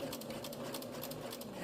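A sewing machine runs at a little above medium speed, stitching a few forward and a few reverse stitches to lock a half-inch seam on a Japanese rice bag, with a steady close motor whir and a rapid needle rhythm and no talking.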